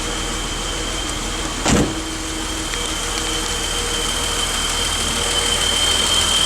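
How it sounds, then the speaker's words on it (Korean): A classic car's engine idles in a garage in Japan, a steady, even hum close by with one brief louder click early on and little change otherwise. "엔진 소리 다시 한번 들으시겠습니다"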